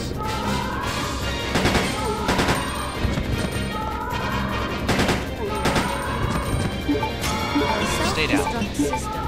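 Gunfire from the video game Resident Evil Code Veronica X, a series of sharp, loud shots coming at irregular intervals over a dense background of game sound, with a person talking between the bursts.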